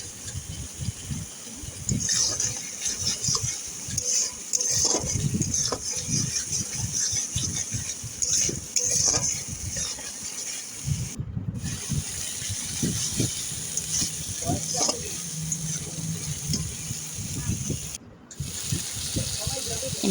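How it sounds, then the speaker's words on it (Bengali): A spice paste fries slowly in oil in a pan for a Bengali kata chorchori, giving a soft, continuous sizzle and hiss with occasional stirring scrapes. "মশলা থেকে তেল না বেরোনো অবধি আমি ভালো করে মশলাটাকে আস্তে করে কষিয়ে নেব।"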